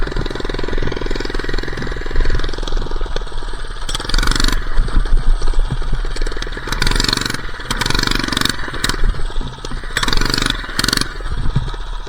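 A minibike engine revs hard as the rider tries a wheelie, loud and close, with throttle surging in repeated bursts over a rough buzzing idle.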